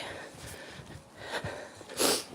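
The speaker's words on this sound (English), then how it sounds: "You can hear by my sniffles, guys, as well" Faint sniffling outdoors in bitter cold on a morning dog walk, a couple of short sniffs with the last one louder and breathier, over quiet outdoor background.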